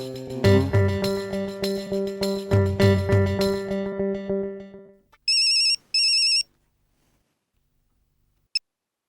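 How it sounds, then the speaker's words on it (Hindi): A loud musical ringtone plays in a repeating melody, then cuts off, followed by two short electronic beeps and a final click. "अटके अंकल को फोन करता हूँ।"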